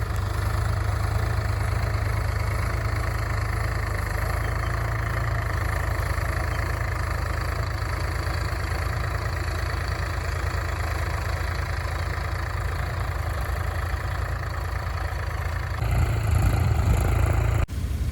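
A tractor stuck in a muddy field with a trolley loaded with paddy idles, a steady, close low chug with light knocking, then revs harder near the end into a louder, rougher burst.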